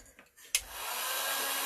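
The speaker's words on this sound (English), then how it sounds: "I'm going to go ahead and try to tap it with the heat gun" A heat gun starts with a soft click and then blows a steady, breathy rushing hiss onto a wet transfer. The sound is close and continuous, and no one speaks.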